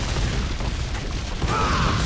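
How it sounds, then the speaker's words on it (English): A Barbarian build in Diablo 3 sets off a constant barrage of explosions at its feet, heard as a continuous muffled rumble of overlapping booms and crunching impacts, steady and fairly loud throughout. "it's basically just like a barrage of constant explosions at your feet"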